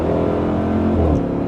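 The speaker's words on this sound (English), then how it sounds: "Do you hear the whine when I do this?" A revving supercharged engine on a Dodge Durango Hellcat, a short close burst with a whining tone layered over the low rumble, heard alone.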